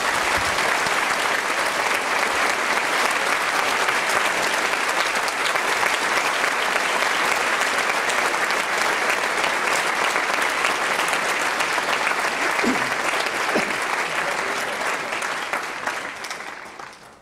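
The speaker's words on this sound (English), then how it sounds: "So please give a warm welcome to Professor Kip Thorne" A lecture audience claps in dense, even applause for a professor, sustained at full volume for most of the stretch before tapering off near the end, with no clear talking.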